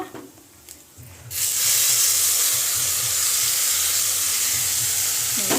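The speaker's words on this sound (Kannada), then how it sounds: "ಈಗ ಚೆನ್ನಾಗಿ ಎಣ್ಣೆದಲ್ಲೇ ಫ್ರೈ ಮಾಡ್ಕೋಬೇಕು" Ground spinach thokku masala paste frying in oil in a pan on a low flame, a loud, dense, continuous sizzle that starts abruptly after a quiet moment and holds steady close by, without talk.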